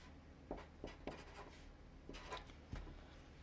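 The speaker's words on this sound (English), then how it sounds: "I'll write my coefficients there." Marker or pen writing numbers for a math lesson. Quiet scratchy strokes and taps come in short irregular bursts and sit close to the microphone, with no talk.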